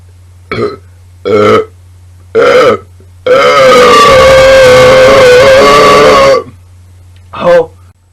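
A series of loud, close burps after drinking Coke: three short belches, then one long, drawn-out rumbling burp lasting about three seconds, and a final short one.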